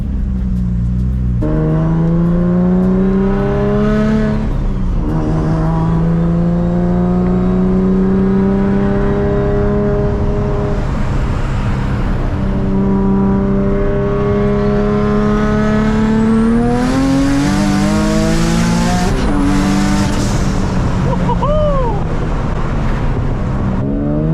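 A boosted Nissan Z with a Tomei engine roars on a dyno, climbing through a long wide-open pull toward 8,000 RPM with rising pitch, brief shifts and dips, and a high whine near the top, loud and close.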